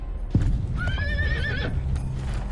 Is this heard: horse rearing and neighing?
yes